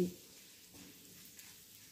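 Chili and garam masala powder fry in hot oil while cooking chicken do pyaaza, giving a faint, steady sizzle throughout with no talking.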